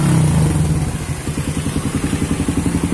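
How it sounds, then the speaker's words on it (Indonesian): A Suzuki Satria FU motorcycle engine, bored up with its carburetor being tuned, idles with a steady, loping putter after a brief louder rev, running close and continuous. "Itu motor gue lagi di setting."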